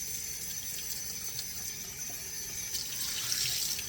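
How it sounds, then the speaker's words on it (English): Cold tap water runs steadily into a sink as pieces of lamb are rinsed, a continuous soft hiss and splash with slight swells near the end, no voices. "So I'm rinsing off all the pieces that were left stuck to the towel."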